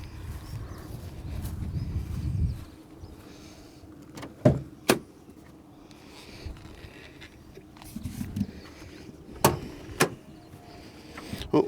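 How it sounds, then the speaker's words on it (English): Rear doors of an Autosleeper Duetto motorhome being opened, a low mechanical rumble followed by a few sharp clicks and latch knocks, fairly close in a quiet setting. "We'll open the rear doors first."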